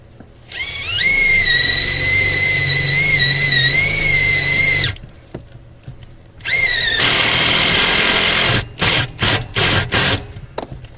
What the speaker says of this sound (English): I'm going to use a self-tapping ground screw to apply the ground